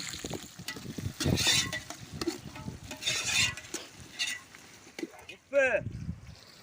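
Small shallots and curry leaves fry in oil, giving uneven bursts of sizzling and crackle with a few stirring scrapes, while a voice speaks at times.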